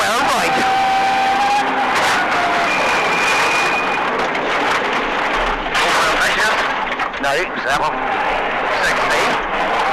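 A rally car slides on a stage at the 2004 Dogleap Rally, its engine revving and changing pitch over gravel noise while a commentator talks over it, loud and close.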